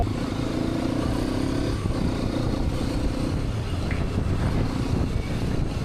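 A Hero Xpulse 210 motorcycle on a test ride, its engine droning loudly and continuously with rumbling, wind-buffeted noise and no pauses.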